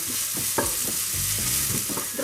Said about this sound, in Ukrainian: Цибулю злегка підсолюємо та постійно помішуючи, смажимо хвилин 5-7, щоб вона стала м'яка і прозора.